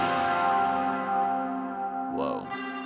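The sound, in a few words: guitar through the Wash reverb pedal with wet turned up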